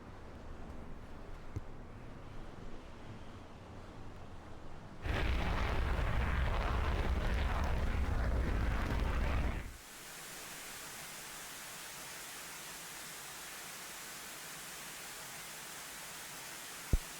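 Missile launches and blasts in a combat video game: a low rumble gives way to a loud, sustained roaring burst for several seconds, then a steady hiss and a single sharp crack at the very end.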